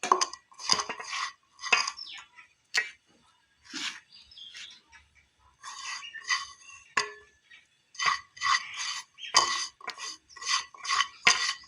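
Roasted coconut being stirred into a flour and rava mixture in a pan, a series of loud, close metallic scrapes and clinks of a spoon against the pan, coming in bursts with short pauses between them.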